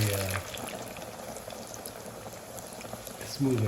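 Chicken pieces frying in hot oil, a steady loud bubbling sizzle throughout with brief surges as food enters the oil, and people talking over it.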